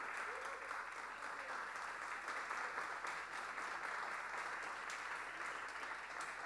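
Sustained clapping from a ceremony crowd honouring a composition prize winner, a dense, even patter heard from a distance at low volume, without speech.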